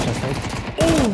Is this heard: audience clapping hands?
no